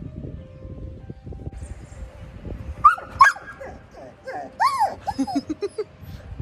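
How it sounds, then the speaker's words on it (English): Franklin, a pet dog, whimpers and cries with excitement in a few high, wavering whines and yips over a low rumble of indoor background noise, fairly close to the listener. "My dog is excited too, like he's even crying about it."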